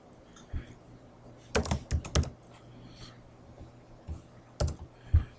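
Someone types on a computer keyboard to name a bookmark in mapping software, with a few scattered key clicks followed by a quick cluster of keystrokes and a final short burst, close and fairly crisp, with no talking.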